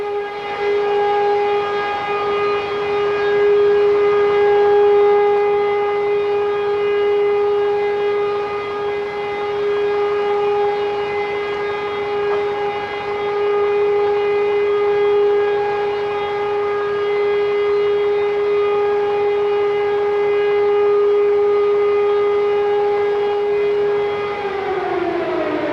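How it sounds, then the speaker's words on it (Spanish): A civil defense siren in Israel sounds for a memorial silence, holding one loud, unwavering wail for over twenty seconds before winding down in pitch at the end. No voices are heard. "al sonar la sirena, que es en este momento"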